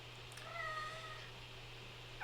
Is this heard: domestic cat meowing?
yes